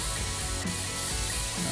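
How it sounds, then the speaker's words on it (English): A continuous, loud hiss of compressed air spraying from a can onto a computer's motherboard in PC Building Simulator, steady throughout with a brief click midway. "So we'll go ahead and spray this down nice and clean."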